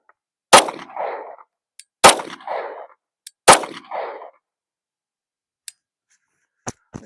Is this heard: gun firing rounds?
yes